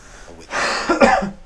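A person coughs, rough throaty bursts in quick succession with a throat-clearing rasp, close and fairly loud, inside a video game scene.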